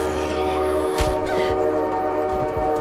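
A train rolls past in the open-world survival horror game The Parasites, a steady low mechanical rumble with a sharp burst near the start and rhythmic thumps as it keeps going, fairly loud and close.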